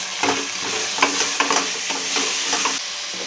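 Ginger garlic paste frying in oil for a mutton pulao, with a dense, continuous sizzle and steady, evenly spaced stirring strokes, close and loud, with no talking.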